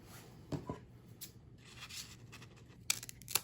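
Scissors trim a strip of paper for a shaker card label, giving a few quiet, close snips with soft paper rustling between them and a couple of crisp cuts near the end.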